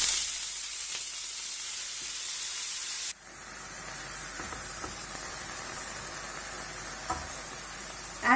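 Onions and broccoli frying in a pan, a steady loud sizzle that briefly drops and then settles into a softer, even hiss, with a few faint clinks of stirring.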